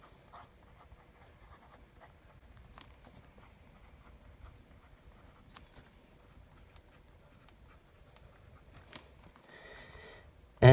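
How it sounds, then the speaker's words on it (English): Pen scratching across paper while copying text from Dracula by hand, a soft, close, irregular stream of small strokes and taps over a quiet room, ending with a sudden louder knock. "What I do is I write here from the book Dracula by Bram Stoker."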